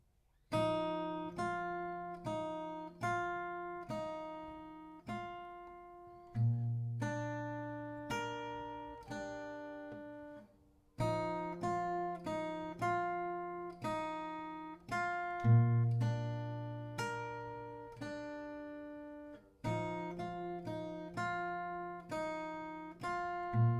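An acoustic guitar plays the melody of a song slowly, in a lesson tempo. Plucked notes ring out one after another over a low bass pulse, in phrases that repeat about every four to five seconds, with no talking.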